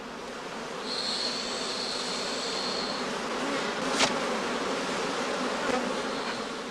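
Honey bees at straw skep hives standing in blooming heather, a steady close buzzing swarm hum with individual bees droning past now and then, and no voices.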